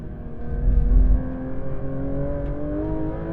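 A Porsche 911 GT3 RS 992 engine pulls hard in second gear after heavy braking, a loud, rising, steady drone heard close up without any talk.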